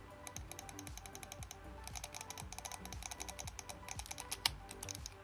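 Rapid clicking from a Dell KM117 wireless keyboard and mouse set, a fast irregular run of light plastic clicks and taps, close and fairly quiet, with no talking.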